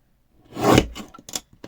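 Scissors trim paper with one brief close snip-and-slide followed by a few quick smaller cuts, quiet and alone.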